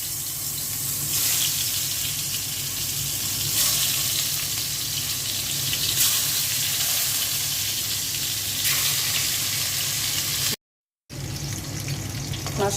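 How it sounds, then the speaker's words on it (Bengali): Fish frying in hot oil in a home kitchen, a close, continuous crackling sizzle with a few louder swells, briefly cut to silence near the end. "মাছটা ভেজে নিচ্ছি।"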